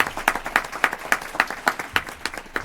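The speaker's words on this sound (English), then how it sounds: "so let's give him a round of applause." Applause at a funding review advisory committee meeting, heard as a sparse, steady run of distinct claps at an even beat, fairly close and moderately loud, with no talk over it.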